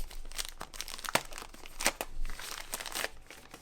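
Plastic packaging from a DJI Mic Mini 2s unboxing crinkles and rustles continuously, close up, with sharp crackling bursts and no talking.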